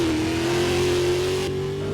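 Car engine starting and revving in the Driving Empire video game, a sustained rising engine tone that climbs steadily in pitch, loud and close with no voices.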